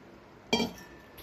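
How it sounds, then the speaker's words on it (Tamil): Ice cubes drop into a glass of grape juice with a single bright clink and a brief rattle, close up in a quiet kitchen. "இப்போ இதுல ஐஸ் கியூப் சேர்த்துக்கலாம்."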